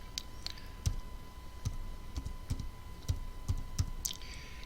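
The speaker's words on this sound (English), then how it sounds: "As I am typing," Irregular, light clicking of keys on a computer keyboard as a search word is typed, close and fairly quiet over a faint steady hum.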